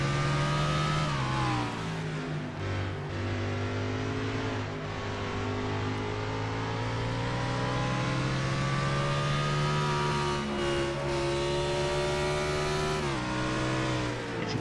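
Race car engine of the number 17 DeWalt Tools Ford, running near and loud with a steady sustained drone, with brief pitch dips and rises as the gears change.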